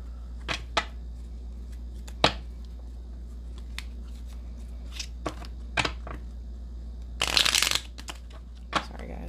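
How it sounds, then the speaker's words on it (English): Tarot cards are shuffled close by in scattered flicks and taps, then one quick riffle burst, with a steady low hum underneath. "More shuffle."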